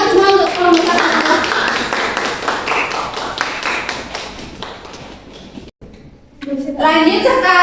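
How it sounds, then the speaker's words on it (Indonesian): A classroom of junior high students claps for a presenting group, a burst of quick overlapping applause with children's voices mixed in, fading before talk resumes. "Silakan tepuk tangan semua untuk kelompok 1."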